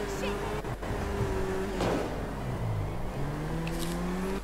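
A car engine in the video game GTA V drones steadily, with its pitch dipping and rising as the vehicle drives.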